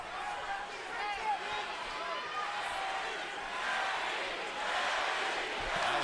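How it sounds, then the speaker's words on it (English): Boxing arena crowd during a Pacquiao vs Bradley fight, thousands of voices swelling into a rhythmic chant of a fighter's name that grows louder toward the end, with a commentator talking over it. "Now the crowd begins to chant Manny, Manny."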